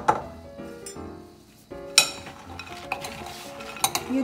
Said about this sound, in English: After a minute, you mix it.